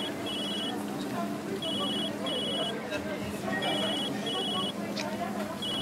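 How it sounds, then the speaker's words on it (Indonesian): A telephone rings inside the video game Food Truck Simulator, sounding as repeated electronic ring bursts in a steady on-off pattern while a person talks over it. "Bunyi apa? Bunyi telepon apa? Bukan telepon gua"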